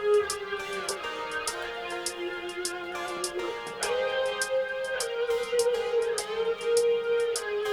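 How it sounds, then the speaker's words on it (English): A bluesy electric lead guitar in an electro rock song bends and sustains sliding notes over a steady beat with crisp, regularly ticking hi-hats, with no voices. "So real bluesy guitar in this part of the song."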